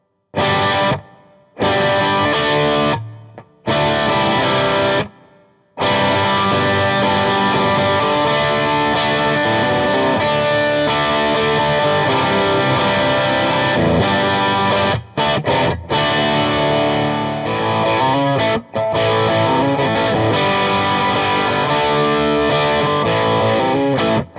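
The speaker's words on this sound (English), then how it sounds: "we are crunching into the Mesa Boogie Oogie Oogie, the crunch channel" A loud, crunchy distorted PRS SE Special Semi Hollow electric guitar on its bridge pickup, through a Mesa Boogie amp's crunch channel with Boss reverb, plays chords and riffs, stopping briefly a few times before ringing on continuously.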